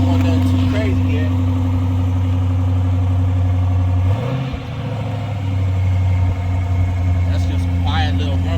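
A Chrysler 300C HEMI V8 with a resonator-delete exhaust idles with a steady, low, deep rumble, close and continuous, with a brief dip in tone midway and a voice talking over it.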